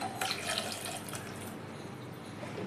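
Water pours steadily into a pressure cooker holding raw mangoes, a soft continuous splashing trickle heard close up with no voices.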